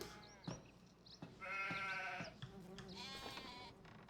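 Several short sheep bleats from the video game Farming Simulator 25 sound one after another, fairly close and quiet, with brief pauses between calls.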